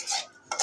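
Chopped dried chili being stirred in a pan for tomato vorta, two short bursts of a utensil scraping and clinking against metal separated by a brief pause.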